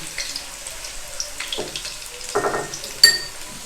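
Chopped onions are fried lightly in a pan for white mutton karahi. Soft, intermittent sizzling bursts and stirring scrapes come and go against a quiet background, ending with a sharper clatter.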